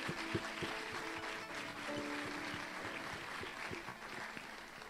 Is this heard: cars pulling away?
no